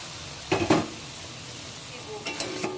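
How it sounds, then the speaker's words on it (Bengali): Fried pointed gourd, potato and soybean being stirred into a cooked spice paste in a pan, with two quick clattering scrapes early on, a quiet pause, then a few softer stirring knocks near the end, alone without talk. "ভেজে রাখা পটল, আলু আর সয়াবিন আমি এই মশলার মধ্যে দিয়ে দিচ্ছি।"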